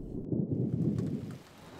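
Rain falls steadily with a low rumble of thunder during the June rainy season in Dehong, China, a dense wash of drops under a deep roll that fades toward the end.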